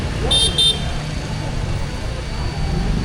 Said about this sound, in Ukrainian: Всі сигналять, тут перехрестя у В'єтнамі заведено.